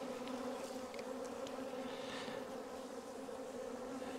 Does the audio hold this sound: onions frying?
no